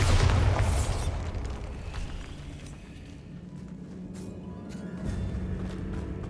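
Bombarda blasting spell going off in Hogwarts Legacy, a loud close boom at the opening that fades into a low rumbling tail and quieter echoing thuds.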